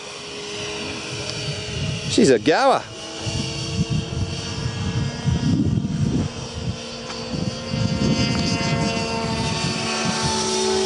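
A loud 70mm electric ducted fan model delta-wing jet whooshes past overhead with a sharp rising-and-falling sweep, then a steady high engine whine continues as people talk and exclaim nearby.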